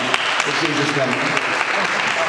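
A congregation applauds steadily at a Good Friday church service, dense continuous clapping filling the room while a voice speaks over it.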